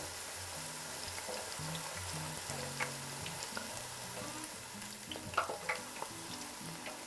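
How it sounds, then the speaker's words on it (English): Sliced fresh jalapenos flash frying in hot oil give a continuous close sizzle with small pops and crackles, while low background music plays. "I like to flash fry them for just a couple of seconds."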